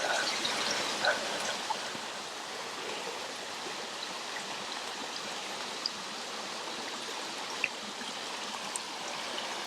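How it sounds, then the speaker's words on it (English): A river rushes steadily somewhere below, a constant hiss of flowing water at moderate distance, with a few faint ticks and clicks on top and no voices. "Can you hear the river already?"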